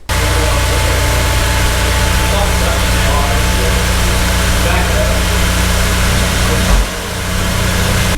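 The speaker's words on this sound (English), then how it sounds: "we're letting it run, letting it burn off whatever's stuck in the exhaust." A Honda S2000 engine idles after valve stem seal replacement, burning off residue in the exhaust, a loud steady low rumble close by with continuous hum, briefly dipping near the end.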